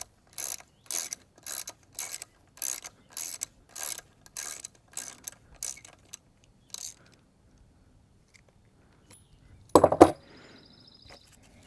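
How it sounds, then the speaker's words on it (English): Ratchet and socket loosening a speed sensor bolt on a GM NP8 NP246 transfer case, about a dozen evenly spaced crisp ratcheting clicks close up, then quiet and a short clatter of the part. "After you get the two rear speed sensors off, same size socket, you're going to take the front one off."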